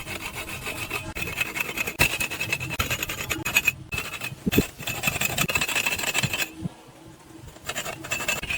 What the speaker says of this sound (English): If you shove a stick in the ground and rub it with another stick